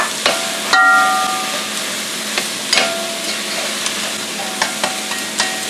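Meat and pepper pieces frying in a pan for Spanish-style rice, stirred with sharp metallic clanks of the utensil over a steady background sizzle.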